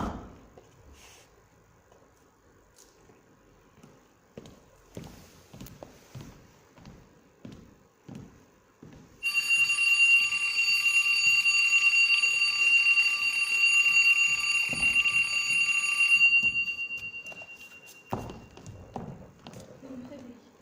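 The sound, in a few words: kitchen alarm clock ringing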